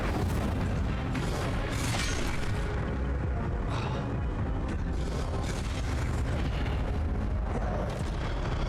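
The Incendio fire spell erupts in the wizarding game Hogwarts Legacy amid a battle, a loud, continuous roar of whooshing, booming blasts with bright crackling flares.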